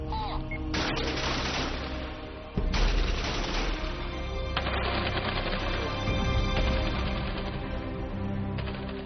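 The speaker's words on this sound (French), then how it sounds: "Voici l'endroit où ont eu lieu les répétitions des feux d'artifice du 60e anniversaire de la fête nationale." Fireworks rehearsal explosions for a 60th anniversary national day celebration: a dense, continuous barrage of crackling bursts and booms, with a sharp louder surge partway through and no voices.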